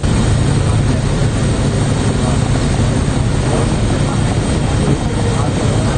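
A Sri Lanka Air Force Mi-17 helicopter carrying flood relief supplies roars loudly overhead, its rotor and engine forming an unbroken, dense wash of noise throughout.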